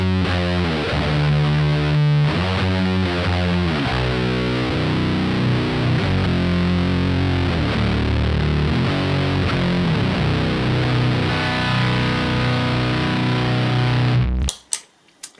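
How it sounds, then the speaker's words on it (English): Heavily distorted electric guitar driven through an Earthbound Locust, a Boss HM2 clone pedal, chugging riffs loud and alone for about fourteen seconds before cutting off abruptly. "First one, it's the Earthbound Locust, which is a Boss HM2 clone variant."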